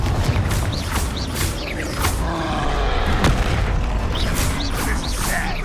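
Repeated Confringo fire-spell blasts in Hogwarts Legacy combat go off as a string of loud booms and bursts, several sharp hits spaced a second or so apart over crackling, whooshing game effects.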